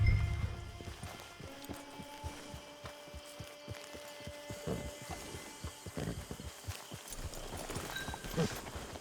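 Horse hooves beat in a quick, even rhythm across a video game landscape, moderately close and fairly quiet, with low ambient score and occasional tack jingles around them.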